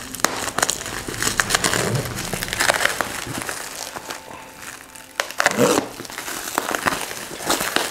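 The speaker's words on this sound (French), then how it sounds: "le scotch il est tellement solide que c'est la pochette qui se déchire" A plastic mailer pouch crinkling and ripping, with several sharp tearing bursts and rustles at close range.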